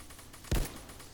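A single short, loud burst of gunfire from the video game Bean Battles, standing out briefly against a low background hum.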